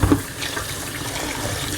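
A kitchen tap runs steadily into a sink as water washes hard, salted meat for stewed ribs, a close, continuous splashing rush with no voices.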